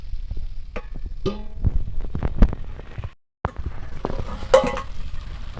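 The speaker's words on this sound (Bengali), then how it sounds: "এবার এটা হালকা হাতে একটু নাড়িয়ে একটু ঢাকা দিয়ে দেবো" Egg fritter curry in spiced masala being stirred gently in a pan, soft spoon scrapes and light sizzling, a brief silent gap midway, then more stirring and clinks close up.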